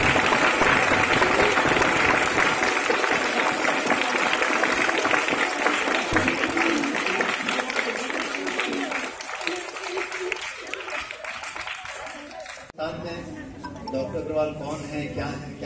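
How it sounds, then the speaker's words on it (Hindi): Children and an audience applauding at an Independence Day celebration, dense sustained clapping that fills the space, fading somewhat before a brief break and then continuing more softly. "अगर आप तालियां बजाओगे अमोद जी के लिए तो कम से कम 80 बजाओ"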